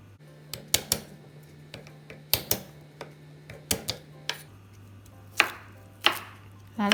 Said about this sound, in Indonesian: Bawang putih, bawang merah dan cabainya diiris-iris.